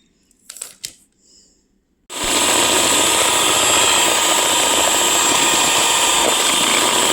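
Electric mixer beating butter and brown sugar for ginger cookie dough starts after a couple of seconds of quiet handling clicks, then runs as a loud, steady motor whir through the rest.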